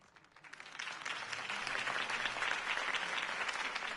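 Video game crowd applause swells up from quiet and holds as a dense, steady clatter of many clapping hands, moderately distant.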